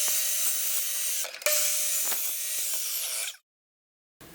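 A chop saw cuts through aluminum T-track with a loud, bright metallic whine, a brief dip midway, then spins down into silence before a faint sound returns.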